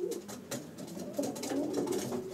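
Racing pigeons coo in a loft, a steady overlapping chorus of low rolling murmurs from several birds, close and moderately loud, with faint rustling and no talk.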